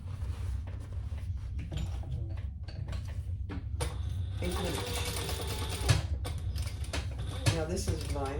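Sewing machine stitching down the bottom seam of a vinyl tote bag, running in short uneven bursts with small mechanical clicks between them, close and moderately loud.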